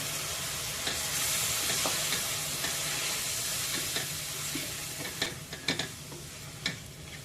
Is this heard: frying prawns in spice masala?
yes